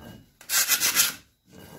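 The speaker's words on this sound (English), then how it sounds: "We'll see what we get off from sanding" Sanding rust and old buildup off metal dumbbells: a single close, harsh abrasive rub lasting under a second, then quiet.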